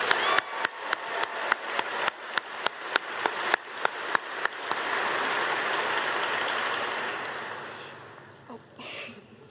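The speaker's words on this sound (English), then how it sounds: "Let's give her another round of applause." Rapid string of sharp claps, then a broad steady wash of crowd applause from an audience of troops at a speech in the UK, swelling and then fading out.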